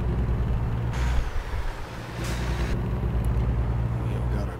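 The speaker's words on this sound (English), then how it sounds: "We've got a truck coming, so we need to hurry up and get out here." Heavy truck engine rumbling steadily in American Truck Simulator, with two bursts of air-brake hiss cutting in, close and loud throughout.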